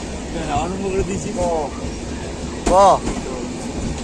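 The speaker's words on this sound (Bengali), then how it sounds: "আমরা ট্রেনে আছি বলে" Inside a moving passenger train, a steady rumbling cabin drone with faint rail noise carries throughout, while people's voices speak over it and a brief louder burst stands out near the end.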